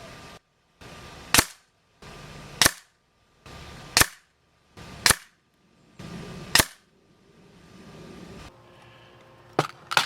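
Umarex Notos air rifle firing RWS pellets: six sharp, loud cracks spaced about a second apart, with a softer seventh shot near the end, each standing alone against a quiet background.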